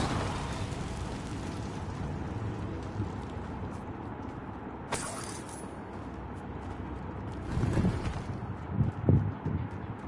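A fire spell, Incendio, is cast during combat in the video game Hogwarts Legacy. Steady game ambience runs throughout, with a sharp burst midway and rougher flaring bursts near the end.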